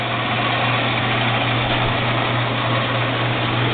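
The motor of a 7 x 12 inch gear head band saw runs with its shroud missing, giving a steady, even hum with a low drone and no pauses or voices.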